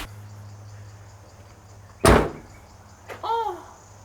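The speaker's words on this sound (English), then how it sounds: "No, don't slam it. Just gently close it." A Mazda Miata door with solid door bushings shuts once with a single sharp thud midway, followed by a faint rattle and a short squeaky sound, in a quiet garage with a low steady hum.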